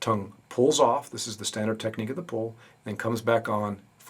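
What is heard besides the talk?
No everyday noise stands out behind the speech.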